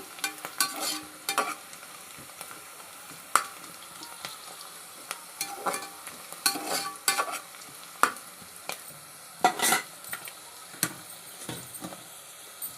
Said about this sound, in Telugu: ఉల్లిపాయలు ఎంత మాత్రం కాలితే చాలండి కొంచెం తేలిక పడితే చాలండి